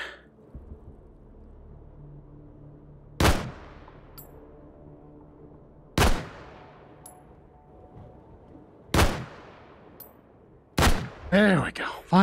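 Four spaced, loud single shots from a PSG-1 sniper rifle in the VR shooter Hot Dogs, Horseshoes & Hand Grenades, each a sharp crack with a trailing echo, over quiet game ambience and ending in a brief burst of clatter.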